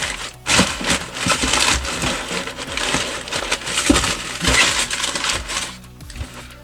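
Packing paper is crumpled and stuffed into a 12 by 8 inch shipping box around a cast iron item, giving a busy, continuous rustle and crinkle with brief knocks against the cardboard, close and fairly loud.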